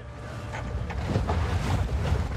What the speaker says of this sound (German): Mit dem Motorboot geht es zehn Minuten von Playa Blanca zu der Stelle, an der sich das Museum befindet.